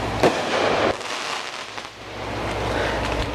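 Neighborhood fireworks go off outdoors, with a sharp crack near the start followed by crackling bursts and a rolling rumble against wind noise, fairly close and moderately loud.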